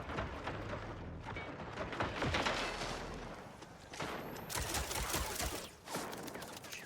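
Enemy gunfire in the video game Mindseye, a dense and continuous barrage of shots and bursts that stays loud throughout, with brief dips between volleys.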